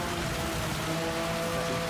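Rain in Gran Turismo 7 at the Nürburgring, a constant broad wash of falling rain with a faint steady engine hum underneath, no talking.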